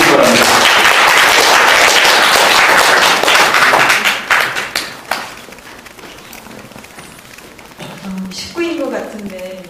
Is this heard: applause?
yes